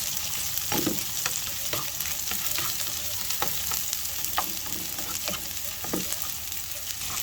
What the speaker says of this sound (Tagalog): Ayan, gisa tayo ng bawang, sibuyas.